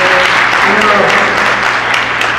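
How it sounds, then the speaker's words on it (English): Audience clapping at a film panel event, a steady wash of hands that fills the whole stretch at moderate loudness, with a low hum and faint murmuring voices underneath. "Go ahead and give us a clap."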